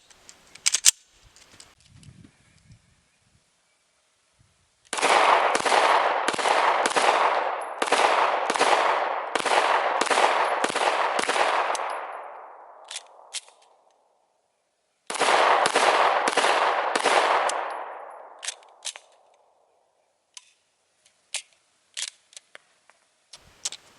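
Glock 19 pistol firing unsuppressed 115 grain 9mm rounds outdoors, two loud rapid strings of closely spaced shots, each burst trailing off in echo, with scattered clicks and handling noises around them.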